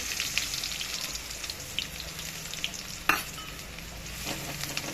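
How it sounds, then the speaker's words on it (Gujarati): Asafoetida and onion hit hot oil, giving a steady close sizzle with scattered crackles and a sharper spatter burst partway through; no voices. "થોડી હિંગ નાખશું, ડુંગળી નાખશું,"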